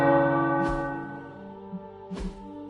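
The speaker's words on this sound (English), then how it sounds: "The tower bells are ringing." Tower bells ring out in Marvel's Midnight Suns, a sustained layered chime of many bell tones decaying steadily, with two soft thuds or footfalls near the start and end and no voices.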